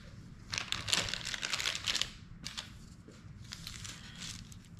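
A wafer being cut flat for a chocolate-covered apple, a short burst of crisp crunching and crackling up close, then quieter faint crinkles.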